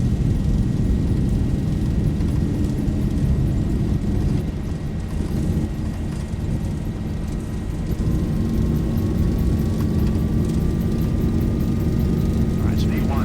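Steady, loud engine roar and rumble of a Boeing 737 accelerating down the runway on its takeoff roll in a flight simulator game, continuous and unbroken, with a faint rising whine.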